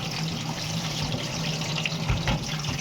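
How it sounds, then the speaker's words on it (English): Tap water runs steadily into a kitchen sink as vegetables are rinsed under it, a close, continuous splashing rush with small bursts of spatter. "They'll be washing the vegetable and fruits always"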